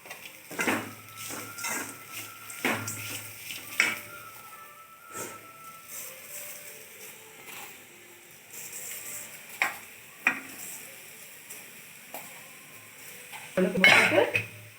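A spoon clatters and scrapes against a hot pan while ragi upma is stirred with a sweetener, sharp intermittent knocks over a faint sizzle, near and fairly quiet.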